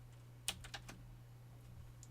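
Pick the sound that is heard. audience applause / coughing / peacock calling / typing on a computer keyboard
typing on a computer keyboard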